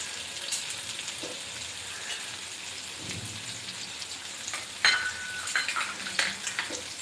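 Chopped onion frying in a pan for Sindhi-style bhindi, browning until pink: a steady, fairly quiet hiss and crackle that runs throughout, with a few brighter pops and sizzles toward the end and no voices.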